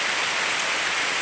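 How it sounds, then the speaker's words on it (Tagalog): Heavy rain pours steadily, a dense, even hiss of drops drumming on surfaces close by, constant and loud throughout with no pauses and no voices. "Ang lakas ng ulan"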